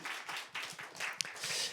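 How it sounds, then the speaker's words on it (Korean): A church congregation at a Christmas service gives soft, distant applause, a brief, faint patter of clapping. "또 오늘 평화의 왕으로 오신 예수님께도 환영과 축하의 박수를 크게 한번 드리겠습니다."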